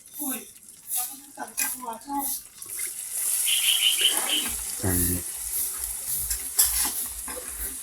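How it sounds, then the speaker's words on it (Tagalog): Tofu pieces go into heated cooking oil and sizzle with a hissing crackle that rises and holds, mixed with stirring clatter and a person talking over the cooking. "Pagkatapos natin painitin ng mantika, lagyan na natin itong tokwa para maganda maluto."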